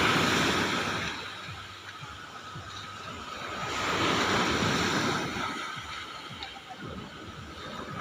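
Strong ocean waves surge and crash in a continuous roar, with swelling and easing rushes of water and wind noise, close and loud without any voices.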